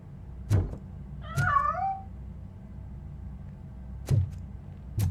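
A cat in RoboCop: Rogue City lets out one clear, drawn-out wavering meow, set between several sharp thumping knocks over a quiet hum, close and distinct.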